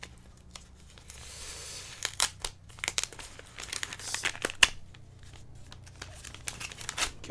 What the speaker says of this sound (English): still a sealed envelope. So let's shake it down to one side and get it open